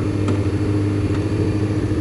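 Motorcycle engine running rough with too much choke, a steady mid-pitched idle-like drone with faint revving swells, loud and close, no talking over it.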